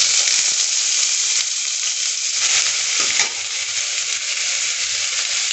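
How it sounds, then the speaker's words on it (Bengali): Sliced capsicum, onion, tomato and green chilli frying in hot oil in a pan, a steady dense sizzle throughout, close and loud with a few faint stirring clunks. "ক্যাপসিকাম, পেঁয়াজ, টমেটো আর কাঁচা লঙ্কা, যেটা আমি স্লাইস করে কেটেছি, এটাকে আমি হালকা করে ফ্রাই করে নেব"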